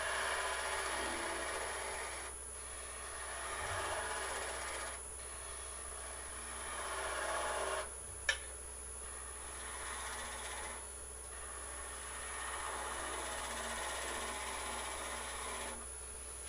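Gouge cutting a wooden Easter egg spinning on a lathe, giving a soft, quiet scraping rasp in repeated passes with short pauses between cuts and one small sharp knock.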